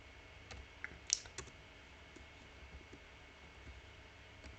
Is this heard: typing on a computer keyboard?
yes